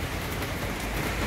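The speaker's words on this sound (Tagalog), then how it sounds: "Lakas ng ulan." Heavy rain pours down steadily, a dense, constant hiss of drops striking surfaces with no pauses and no voices.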